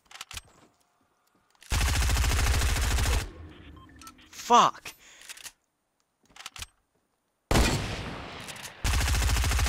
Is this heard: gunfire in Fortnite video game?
yes